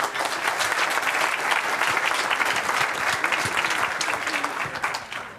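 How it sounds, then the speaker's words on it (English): Conference audience applauding a speaker introduced to talk about privacy, a dense, steady burst of many hands clapping that carries on throughout. "Let's applaud him."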